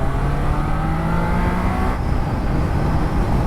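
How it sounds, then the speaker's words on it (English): A Triumph Trident 660 motorcycle engine hums and revs loudly and continuously while riding, with a steady droning tone and a brief dip midway, up close with no talking. "first off, the engine feels very, very nice"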